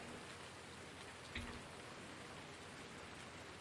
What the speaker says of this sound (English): We want this rain to go away